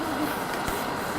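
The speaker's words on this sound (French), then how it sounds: "si tu souffles là, ça fait comme les trains" Breath blown through the bore of a wooden flute gives a steady, airy rushing hiss resembling a passing train, continuous and even throughout.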